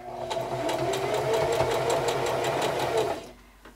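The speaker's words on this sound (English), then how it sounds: "as you sew, you pull the fabric so that they end as close as possible on the other corner" A domestic sewing machine stitches a row of quilt fabric pieces for a beginner baby quilt, giving a steady, close mechanical whir for about three seconds before it stops.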